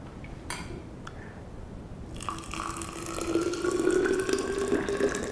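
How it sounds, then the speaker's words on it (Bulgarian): Hot spring water pours over rinsed einkorn grain in a thermos. After a few light knocks, a steady stream starts and its pitch rises as the vessel fills, close and clear. "След като сме изплакнали лимеца, следва да го залеем с гореща вода."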